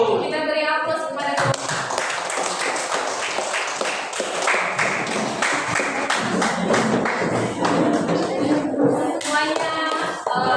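An audience claps in a hall, a dense wash of many hands that runs steadily for about ten seconds with no voices over it.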